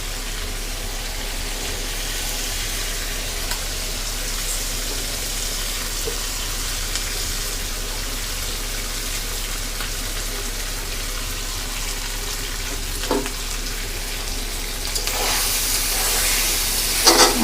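Mung dal and chicken frying together in a pan with spiced masala give a steady, close hiss and sizzle that runs throughout, growing a little louder and brighter near the end.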